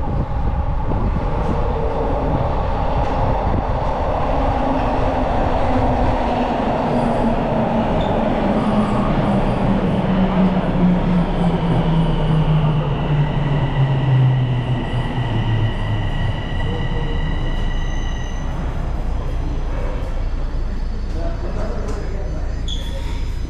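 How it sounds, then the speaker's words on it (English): A Toronto subway train runs underground, its loud steady rumble carrying throughout while a long descending wheel squeal sweeps down over the first two thirds, with faint tonal whines higher up near the end. "I decide to take an underground train known as the subway"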